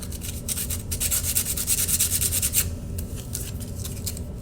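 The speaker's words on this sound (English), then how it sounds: "So sand the corners a little, not a lot, just so they're not sharp." Corners of sheet metal being sanded by hand, a quick series of rhythmic rasping strokes, close and moderately loud, slowing toward the end.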